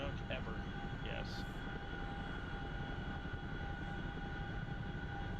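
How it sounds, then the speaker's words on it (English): Continuous engine roar from the DCS flight simulator, with aircraft noise and steady tonal whine holding level throughout, a few faint higher chirps early on. "I hear some afterburner."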